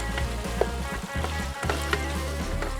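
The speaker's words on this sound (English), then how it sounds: "It is sizzling." Pre-cooked pasta sizzles loudly while frying in a pan with freshly caught cuttlefish, a steady crackling hiss with brief spattering pops throughout and no talk.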